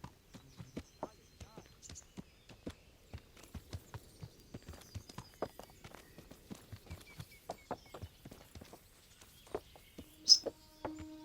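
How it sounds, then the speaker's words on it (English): Horse hooves clip-clop in a steady, uneven walking rhythm in the medieval game Kingdom Come: Deliverance, with faint birdsong in the background and no talking. "What are these horses up to?"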